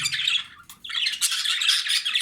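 Harsh, rapid squawking from a jumbo budgerigar during courtship, loud and close, in a continuous chattering run with a brief pause partway through.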